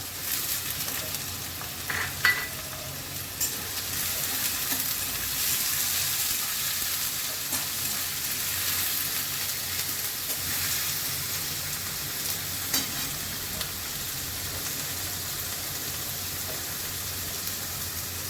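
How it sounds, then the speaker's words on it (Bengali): Three large onions frying in oil in a pan give a steady, soft sizzle with faint stirring scrapes, continuous and close, with no talk. "পেঁয়াজ দিয়ে দিলাম। এখানে 3টে মতো বড় পেঁয়াজ আছে।"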